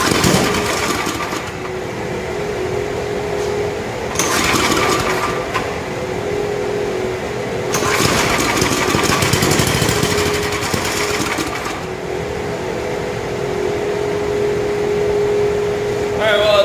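A Murray Estate 8/27 dual-stage snow blower engine runs steadily on old gas, a continuous close mechanical drone with surging bursts and some rougher patches, and no talk over it.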